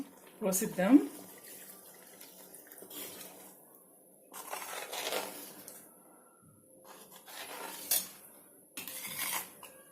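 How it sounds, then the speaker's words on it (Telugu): Water is poured into butter chicken gravy in a pan, a brief splashing pour followed by intermittent clinks of utensils against the cookware, with a person talking throughout. "ఇంకా కొన్ని నీళ్ళు పోసిద్దాం."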